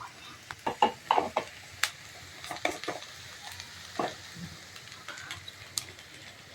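Masala being stirred into a pan of taro root (chamagadda) curry, with irregular scraping and clinking strokes of the spoon over a faint background sizzle, close and fairly quiet.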